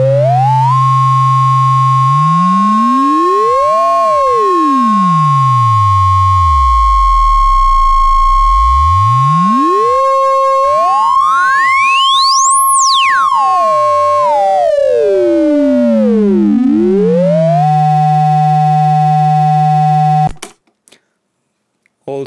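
CubuSynth synthesizer with a diode ring and transistor ring modulator, putting out a loud, clean electronic tone whose metallic partials glide up and down in long sweeps and warbles, then cut off abruptly near the end.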